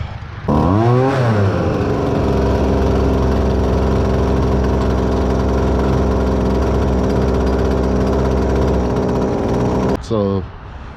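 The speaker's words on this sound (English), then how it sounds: "It's a pole saw" A small two-stroke pole saw engine revs up, then runs at a steady, loud, buzzing drone for several seconds before revving and cutting off.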